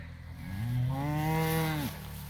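A cow of a South Poll heifer herd on grass pasture gives a single long, loud moo, rising then holding steady before cutting off, close by with no talk.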